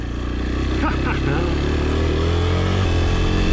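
Dirt bike engine running steadily and close by as the rider emerges from brush onto a road, a continuous loud motor drone with a brief throttle blip near the start.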